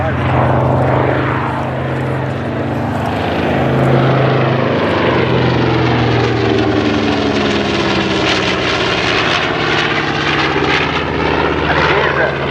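Propeller engines of a Dutch B-25 Mitchell bomber drone loudly and steadily overhead at an airshow, a continuous throbbing roar that swells and shifts in pitch as the aircraft passes, with talk faintly beneath.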